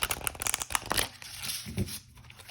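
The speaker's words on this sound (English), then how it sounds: "I love a good sideways shuffle." Large matte oracle cards are shuffled sideways, a quick run of soft papery riffles and slides that fades to a faint rustle, close and quiet.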